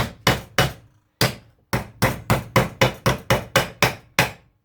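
Sharp metal blows land in a steady run, about thirteen hammer strikes on a sheet steel body panel of a 1972 Range Rover A Suffix as it is bent, each ringing briefly, loud and close, with no talking.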